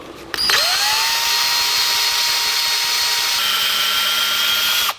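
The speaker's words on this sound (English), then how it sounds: "Take an 1/8 inch drill and drill a pilot hole." A 1/8 inch drill boring a pilot hole into a punched rod during a battery and cut-off switch install on a 1949 Chevrolet gasser, a steady high whine held close and loud for several seconds before stopping abruptly.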